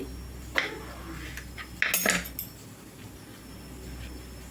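A spoon scrapes the ridged skin off a ridge gourd with a few short, rough strokes, the loudest burst about halfway through and a quieter one just before, against steady low background hum.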